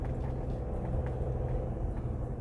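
A Fiat Fastback Turbo 200 CVT SUV climbs a steep hill with a steady, fairly quiet low engine rumble that holds even throughout, with no talking.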